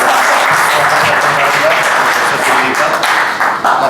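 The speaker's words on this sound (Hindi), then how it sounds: "तालियों की गड़गड़ाहट के साथ" A crowd applauds at a Bihar Day gathering in a restaurant, sustained clapping from many hands filling the room for several seconds, fairly loud and even, with a few voices mixed in.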